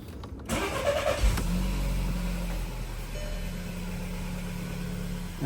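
An Audi A3 1.2 TFSI cranks briefly, catches and settles into a smooth, steady idle, heard close up in the engine bay.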